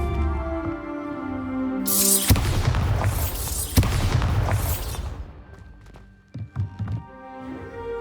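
Bombarda blasting spell going off in Hogwarts Legacy, a loud booming explosion burst with a sharp second crack, rumbling and fading over several seconds amid game music and ambience.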